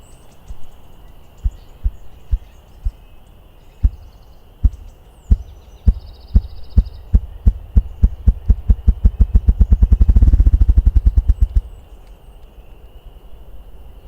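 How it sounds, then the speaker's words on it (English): Ruffed grouse drumming on a log: deep, muffled thumps starting slow and spaced, then speeding into a rapid accelerating roll that peaks and fades, heard alone outdoors. "you start hearing this thumping. The sound is so low, it's hard to describe, but it's one that you feel more than you hear."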